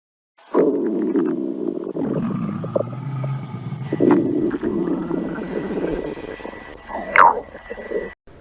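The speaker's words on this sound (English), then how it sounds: "My stomach will keep rumbling during the game." Cartoon stomach rumbling, a low drawn-out gurgling growl running for several seconds with swells and a brief higher squeak near the end, loud and close with no speech over it.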